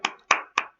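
Four sharp hand claps at an even, quick rhythm, each one crisp and close with short decays and silence between them.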